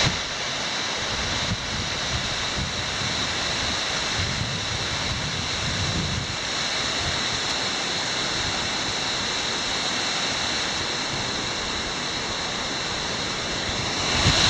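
Snowmelt creek rushing through snow-filled terrain on the Gable Lakes Trail in the Sierra Nevada: a loud, steady, close broadband roar of churning water that runs unbroken from start to finish, with no voices.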